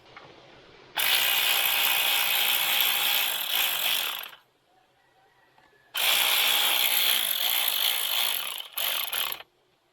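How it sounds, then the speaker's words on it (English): A ratchet wrench tightens a bolt on a homemade trike. Two long stretches of loud, fast rattling clicks are separated by a quiet pause, then a brief final burst. "I want to tighten it down loosely."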